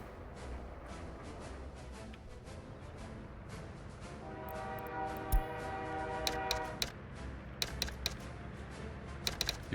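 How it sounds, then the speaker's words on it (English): Locomotive running in the Workers & Resources video game, a steady rumbling rail drone with a sustained horn-like tone midway and scattered clicks and ticks toward the end, heard alone without talk. "This is locomotive"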